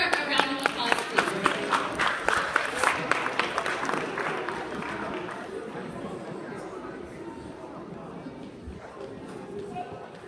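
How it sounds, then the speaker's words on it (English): Applause from a community audience at a Ghanaian union gathering, sharp rhythmic claps loud at first then fading into a steady crowd murmur, with speech mixed in. "Let's give her a round of applause, please."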